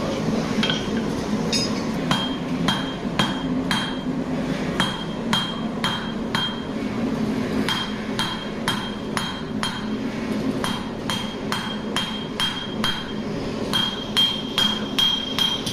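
A blacksmith's hammer strikes metal on an anvil at an irregular pace, each hit bright and clanging, over a steady low background roar.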